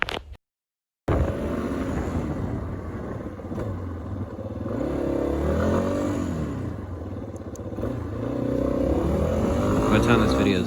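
A Yamaha XT250 motorcycle engine runs and revs steadily after a brief silent gap near the start, a continuous close mechanical drone rising and falling in pitch, with some voice-like sound mixed in.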